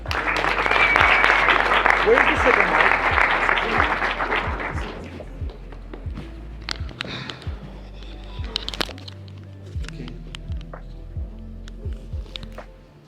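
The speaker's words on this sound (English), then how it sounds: "Please give a round of applause to Alex." An audience at a hotel seminar in Sandton claps in loud, dense applause that fades after a few seconds into scattered claps, shuffling and footsteps, with someone speaking briefly near the end.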